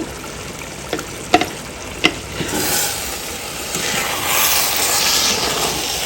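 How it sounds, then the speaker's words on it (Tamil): Water for beef biryani with seeraga samba rice boils hard over a high flame, a steady broadband roil and hiss with a few sharp pops early on, swelling louder toward the end. "இப்போ நல்லா பாயில் ஆயிடுச்சு"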